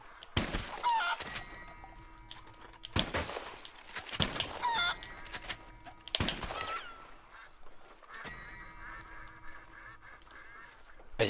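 Chickens in Red Dead Redemption 2 Online cluck and squawk close by, with repeated bursts of fowl calls and honk-like cries over a continuous background.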